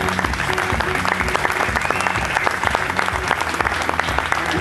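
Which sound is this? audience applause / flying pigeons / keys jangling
audience applause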